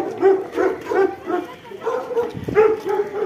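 Dogs bark and yip in quick repeated bursts close by, a lively sequence of short barks with a brief pause mid-way, while a person speaks nearby.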